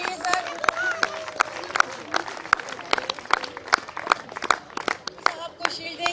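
Audience applause for a guest at a scout training event, a dense spread of claps that is fairly loud and steady through most of the stretch, with a hubbub of voices mixed in.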